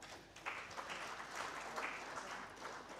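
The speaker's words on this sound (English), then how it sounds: "Can we have a big round of applause for them?" Applause rings out for honorees at a sports carnival in Coimbatore, a steady, moderately distant crowd clapping that runs for the whole stretch at an even density.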